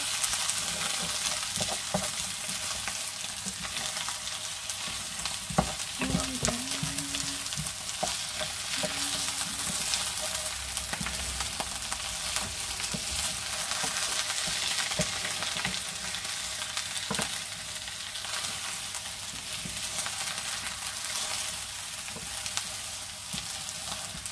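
A small quantity of onions frying in a pan alongside rabbit cooked in mustard, giving a steady, continuous sizzle throughout with occasional stirring clicks and no talk.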